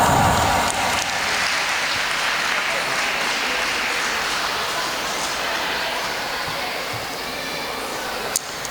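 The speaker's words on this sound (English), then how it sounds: "Please keep motivate them with a big round of applause." Sustained audience applause at a school graduation ceremony for kindergarten children, steady broadband clapping from a large crowd that fades slightly toward the end, with faint voices mixed in.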